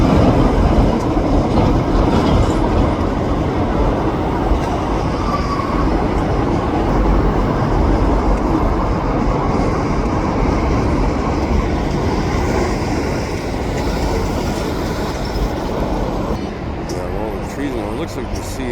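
Freight cars being split up and switched in a rail yard, a continuous loud rumble and grinding of rolling stock, close and steady throughout.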